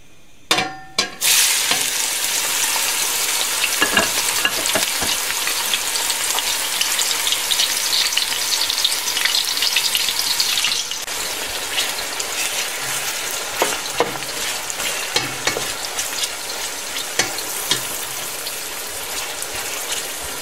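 Finely sliced onions frying in hot oil over high heat for biryani masala, a loud continuous sizzle after a few sharp clatters at the start, with occasional scraping stirs and no voices.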